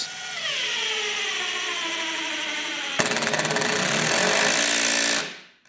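An 18V ASS 18V M-CUBE cordless impact screwdriver whirs steadily, then breaks into rapid hammering impacts as it drives a screw, loud and close, before abruptly stopping.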